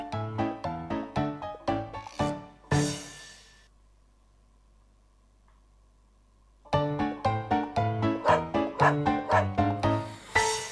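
A dog barks in rapid repeated yips, two fast bursts of a dozen or so sharp barks each separated by a few seconds of silence, close and loud.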